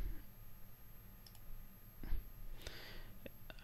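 Sharp computer mouse clicks on a Windows PC, a few isolated quiet taps with gaps between them over a faint background hiss.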